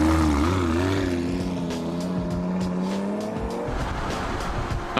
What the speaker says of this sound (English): the Lamborghini Gallardo Spider by Edo Competition